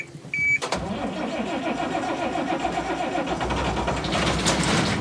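A service truck engine cranks and fires in a heated shop on a cold day, a sharp catch after a brief whir, then a rough, loud idle that roughens and swells near the end.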